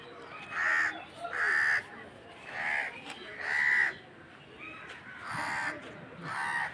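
Caged crows at a zoo caw repeatedly nearby, six or so harsh calls spaced roughly a second apart over a quiet background.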